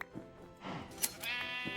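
Sheep bleating in the Minecraft video game, a few short nasal bleats spaced across a brief stretch over quiet game background, moderately close with no talk.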